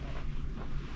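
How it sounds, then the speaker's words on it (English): Wind blowing outdoors on a cold day in Belfast, a steady low rushing buffet across the microphone with no voices. "It's windy and cold."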